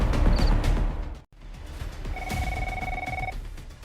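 A telephone ringing, a steady electronic trill that sounds briefly and then returns for about a second over a busy, rumbling background of noise and impacts.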